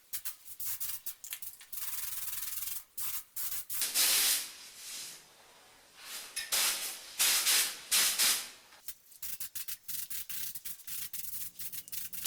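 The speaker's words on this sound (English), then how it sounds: "I sanded the primer back" Primer being sanded back by hand on a BMW E30 325i steering column, a steady rasping rub in repeated strokes, with louder bursts of broadband hiss midway through, no talking.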